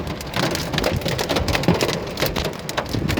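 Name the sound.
heavy rain with hail falling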